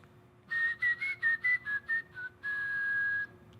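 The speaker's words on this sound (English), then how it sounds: "So he whistles with the tongue, and his lips are kind of closed." A clear, high whistle made with the tongue, lips closed, plays a quick run of short separate notes, then holds one long steady tone, loud and close with no talking.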